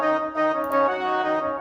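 Brass Section virtual instrument in FL Studio with a basic delay, sustaining a short brass chord phrase alone, with soft swells and a faint echo over under two seconds.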